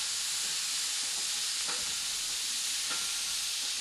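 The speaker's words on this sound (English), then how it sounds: "You can hear them sizzling." Steady, loud sizzling of vegetables frying in a hot pan, a continuous hiss with a couple of brief crackling bursts, no voices.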